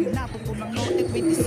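Racing pigeons back at the loft after a 110 km flight give soft, low cooing calls, close and steady through the short stretch with no one speaking.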